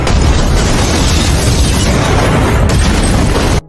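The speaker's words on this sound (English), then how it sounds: "there was suddenly a huge explosion that devoured the entire police station" A huge, roaring explosion fills the whole stretch with loud, dense rumble, then cuts off abruptly at the end.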